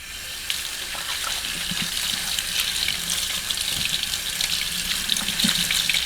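Tap water runs steadily over a soapy nitro engine air filter element being squeezed and rinsed in a sink, a close continuous splashing gush with small squelches and drips, no voices.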